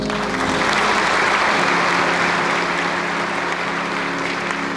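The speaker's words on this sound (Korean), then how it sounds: "인사하실 때 크게 박수해 주시기 바랍니다." At a pastoral ordination ceremony, a large congregation of 137 new pastors and guests claps in a sustained, loud roar of applause, with a steady low hum running underneath throughout.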